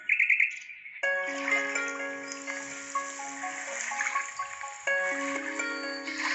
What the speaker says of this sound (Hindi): देख सकते हैं फ्रेंड्स कितना अच्छा लग रहा है ये रिंगटोन।